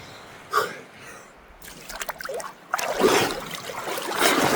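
A person wades into cold lake water, with soft sloshing and trickling that grows into louder, fuller splashing as they move deeper.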